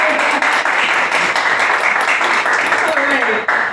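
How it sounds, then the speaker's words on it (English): An audience at a coffee house poetry reading gives a round of applause, a loud, close, continuous patter of many hands with a few brief voices woven through. "Give her one more round of applause."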